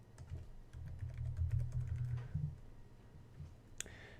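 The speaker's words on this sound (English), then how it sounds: "I'm going to go off screen and I'm going to type in my SSID" Quick, uneven keystrokes tap on a computer keyboard while a Raspberry Pi is set up for live streaming, close and fairly clear over a low steady hum, with a sharper click near the end.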